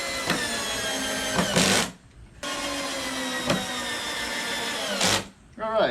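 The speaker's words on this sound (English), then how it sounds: "we'll just drill some holes." A power drill whines steadily in two long bursts separated by a brief pause, drilling holes in discarded pallet wood with a woody grinding edge, loud and close.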